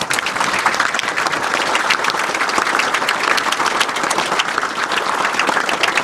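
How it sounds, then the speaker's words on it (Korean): A large gathering applauds the doctors, nurses and nursing assistants who worked to overcome COVID-19 at a government meeting, producing loud, sustained, even clapping from many hands that continues unbroken throughout. "모두 큰 박수 부탁드리겠습니다."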